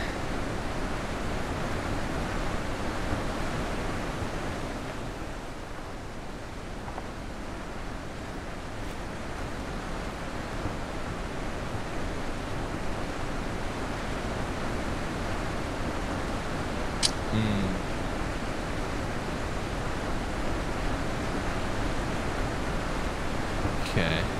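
Steady rushing roar of a waterfall in the video game The Witness, a dense continuous wash of falling water that stays loud and even throughout with no talk over it.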